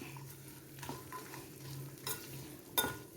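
Beef and curry leaves stir-fried in oil for beef pickle, a faint continuous sizzle broken by a few scraping strokes of a spoon against the pan, the last one sharpest.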